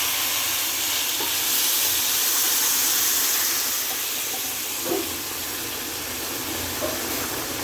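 Hot water poured into a cooking pot of rice for polao gives a steady, close hissing rush that holds for several seconds, with no voices over it.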